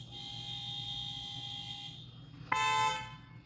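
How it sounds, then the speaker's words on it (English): Car horns honk in the background outdoors, first a long steady tone, then a louder, brighter blast that swells briefly and fades out, with a low traffic rumble underneath. "We got a honk war in the background."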